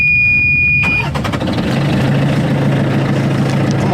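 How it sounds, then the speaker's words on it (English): A high beeping tone, then the inboard engine of a 36 ft sailboat cranks and catches, settling into a steady low idle chugging, close and loud. "I wanted to turn on the engine to spin off as much as I can off the propeller"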